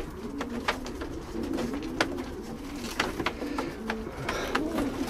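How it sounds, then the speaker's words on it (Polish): Jansen pedigree racing pigeons coo in soft, repeated throaty calls against a quiet background, with a few light clicks and taps mixed in. "Przedstawiam wam tu gołąbki z Jansenów, takie nietypowe gołębie."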